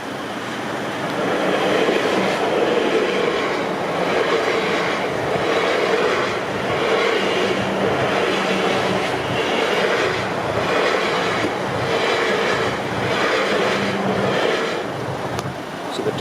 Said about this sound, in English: we are now going to see the London Waterloo train pass by